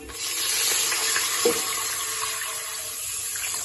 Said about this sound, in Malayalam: പിന്നെ വെള്ളം ഒഴിക്കാം കേട്ടോ